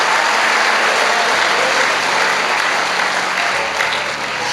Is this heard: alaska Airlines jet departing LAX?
no